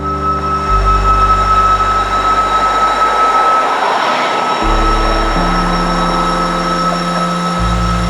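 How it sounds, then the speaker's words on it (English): A CSX train approaches around a curve near Inman Yard, a loud, continuous low rumble with steady droning tones that shift in pitch as it draws closer, without any talking. "Yes, there is another CSX train coming."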